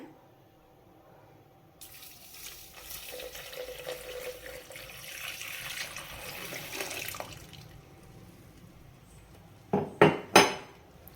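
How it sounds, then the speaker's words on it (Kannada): Chilled water pours into a blender jar holding passion fruit and sugar for juice, a steady splashing rush lasting several seconds, followed by a quiet pause and then a few sharp clattering knocks as the jar is handled. "ಒಂದು ಅಷ್ಟು ನೀರು ಹಾಕ್ಕೊಂಡಿದ್ದೀನಿ"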